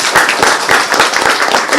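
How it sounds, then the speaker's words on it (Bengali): An audience claps for participants at an event, producing a short burst of dense, fairly loud applause from many hands, evenly sustained throughout. "তাদের সবার জন্য একটা হাততালি"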